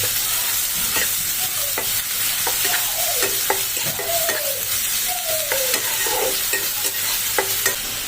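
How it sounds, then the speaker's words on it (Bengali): Onion paste sizzles steadily in a pan while preparing a prawn and jackfruit dish, with repeated scraping strokes of a spatula stirring through the hiss and no talking. "এটাকে অল্প পরিমাণ ভেজে নেব।"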